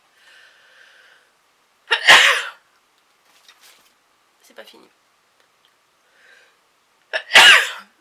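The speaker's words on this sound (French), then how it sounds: "Je vais encore éternuer." Two loud, sharp sneezes arrive several seconds apart from a woman close to the microphone, separated by quiet rustling and faint clicks, with a few soft spoken words.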